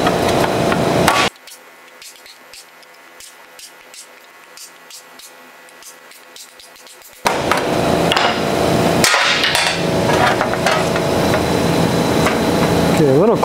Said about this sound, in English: It's gonna take some hammer and dolling, so I got this dolly here and a hammer.